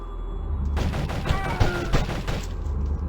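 Gunfire from the Flash game Decision: a quick burst of shots and booms in the middle, loud against a low game background with no talk.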